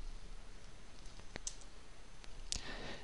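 Quiet, sparse mouse clicks while creating an NXP LPC1100 project in development software, a few sharp isolated taps spread across a faint background hiss with no talk.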